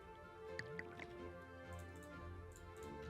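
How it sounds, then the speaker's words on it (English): Liquid bubbles in a modded Minecraft Skyblock game, with soft drips and squishy gurgles over a steady hum of game background sound. The bubbling is quiet and close, and no one speaks. "It's bubbling."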